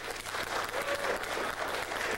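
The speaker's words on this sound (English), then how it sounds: "Everyone who wants trivia, clap." A theater audience at a live Halloween horror show at The Parkway Theater claps together, a dense, continuous patter of many hands lasting a couple of seconds.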